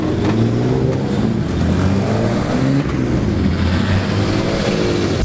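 BMW E36 race car, garage built and running on old tires, accelerating hard around a racetrack, its engine note rising and shifting steadily through the gears, loud and close throughout with no talk.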